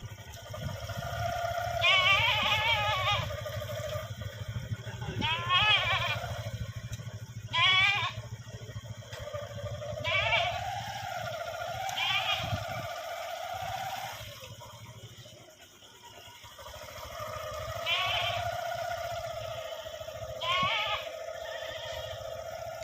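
A goat carried on a motorcycle bleats repeatedly, about eight wavering cries spread over a steady low engine hum, fairly clear and near, with no talking.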